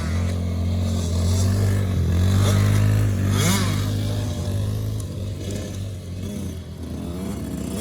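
Dirt bikes and quads riding outdoors, a steady droning engine hum that swells and eases with throttle, fairly loud throughout, with faint scraping and clatter over it.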